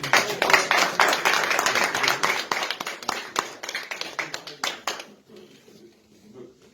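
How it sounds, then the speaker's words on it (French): Applause breaks out from an audience at a presentation in Hamburg, brisk and fairly near at first, then thinning into scattered claps and dying away to near quiet after about five seconds. "Bon, on va applaudir."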